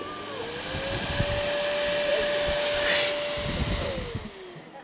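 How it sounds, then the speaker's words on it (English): An electric hand dryer in a washroom runs with a steady, loud blowing whoosh and a sustained whine for about four seconds, ramping up at the start and winding down near the end. "basically, a hand dryer"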